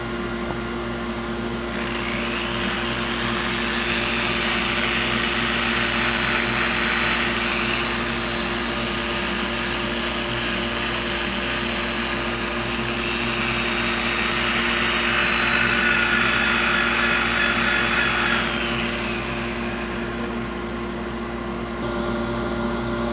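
Continuous steady whine of a vacuum chuck motor while sanding a wooden bowl, with a constant low hum, a rising and falling hiss layered over it, and no talking.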